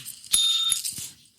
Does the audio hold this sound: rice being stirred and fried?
no